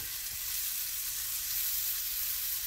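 Sweet potatoes frying in a pan make a steady, even sizzle, close and constant throughout with no voices.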